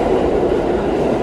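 A commuter train rumbles and rattles past on a freezing day near Hudson Yards, a loud, close, continuous roar of wheels on rails.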